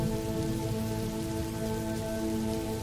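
Soft, steady rain pattering on surfaces, a gentle continuous hiss of drops with a faint tonal hum beneath and no voices.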